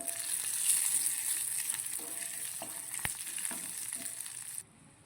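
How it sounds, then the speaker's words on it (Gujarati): Garlic tempering sizzles in hot ghee with a steady hiss and one sharp crackle near the middle, then the sizzle drops off abruptly, heard close and fairly quiet with no talking. "જુઓ, મેં લસણનો વઘાર એડ કરી દીધો છે."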